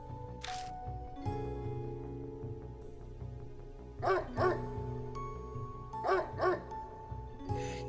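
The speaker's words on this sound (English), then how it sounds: "The dog was barking at someone behind him" In the Spirit Hunter: NG video game a dog barks in two quick pairs of sharp woofs, loud and close over sustained eerie background music.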